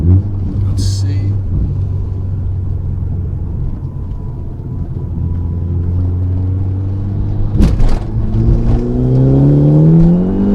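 A Fiat 500 Abarth pulling hard while merging onto a road, engine roaring steadily then rising in pitch through the revs after a brief shift break, loud and close inside the cabin.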